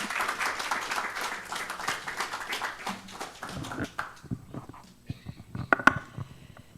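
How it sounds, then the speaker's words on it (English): Congregation applause at a Sunday church service, a few seconds of scattered clapping from a crowd of people, fading out into sparse taps and quiet movement. "You could clap for Lorraine, though."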